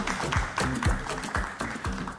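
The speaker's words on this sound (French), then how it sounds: "applaudissez Gic Eco Beauty, s'il vous plaît." Applause for Gic Eco Beauty during a French-language talk show about finding love on social networks, a short burst of clapping with a few rhythmic thumps underneath.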